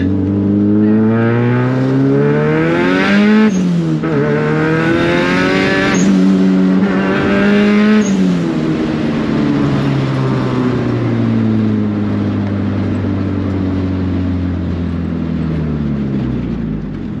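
A fast car's engine roars steadily close by, revving up and down through gear changes before settling into a sustained high drone.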